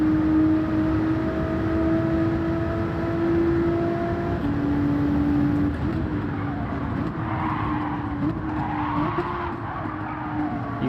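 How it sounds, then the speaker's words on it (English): Tires screeching in a Gran Turismo 7 online race, a sustained squeal of sliding cars over steady engine drone, with shifting tones as another car slides behind. "I don't know if you can hear those tires screeching"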